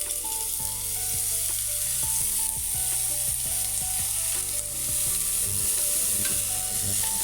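Pumpkin pieces frying in a pan for a mixed vegetable curry, a steady close sizzle under repeated stirring strokes and utensil scrapes against the pan.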